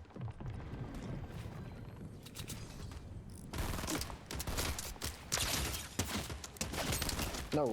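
Gunfire rattles through a maze battle royale game, scattered sharp shots and rapid bursts at mixed distances, growing denser and louder in the second half.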